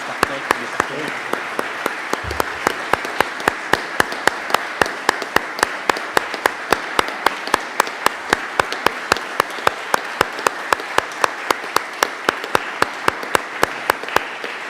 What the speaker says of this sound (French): Vous n'avez pas besoin de traduire parce que tout le monde comprend l'applaudissement.